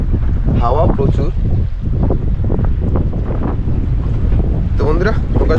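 Strong sea wind roars steadily into the microphone aboard a fishing boat rocking on waves off the Andaman islands, loud and constant, with faint voices under it.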